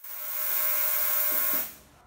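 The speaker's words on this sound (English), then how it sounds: "there's ultrasonic sound waves that go through that sound like this" An ultrasonic cleaner filled with liquid runs with a steady, high-pitched electric whine and buzz for under two seconds before shutting off abruptly, heard close and alone.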